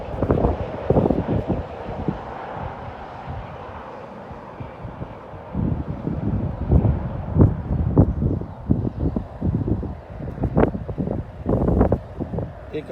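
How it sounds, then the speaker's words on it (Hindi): Strong, cold wind gusts across the microphone at an Oregon viewpoint, roaring in uneven bursts that swell and fade over about thirteen seconds, with a faint vehicle rumble underneath. "हवा बहुत तेज़ चल रही है, बहुत ठंड है ओरेगन में।"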